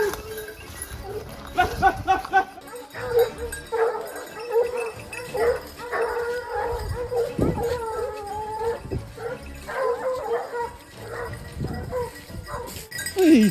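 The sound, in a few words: hunting dogs barking and yipping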